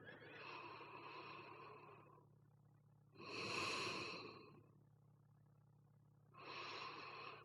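Slow, deep breaths drawn in and let out during a guided relaxation exercise, three long airy swells rising and falling near the microphone with quiet gaps between them.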